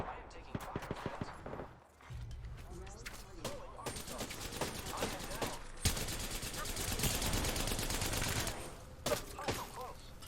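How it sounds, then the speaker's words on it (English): Rapid automatic gunfire in a video game rattles in bursts and long sustained volleys, sharp and close, mixed with scattered shots and a brief lull, while a player talks over it. "I am taking fire, friends."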